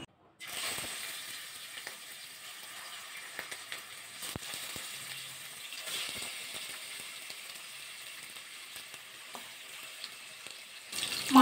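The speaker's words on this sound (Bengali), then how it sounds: "তেলটা গরম হয়ে গেছে, তেলের মধ্যে মাছগুলো দিয়ে ভাজা করে নেব।" Fish sizzling in hot mustard oil in a kadai, a soft continuous frying hiss that stays fairly quiet, with a few faint clinks and no talk.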